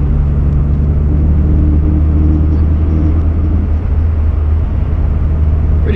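A 1990 VW Corrado G60 with a supercharged 1.8 engine cruising, a steady low engine and exhaust drone with road rumble heard from inside the cabin, constant and loud throughout.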